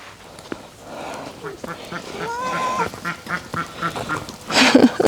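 Ducks quack repeatedly in a busy, uneven series of honking calls, growing louder and more clustered toward the end.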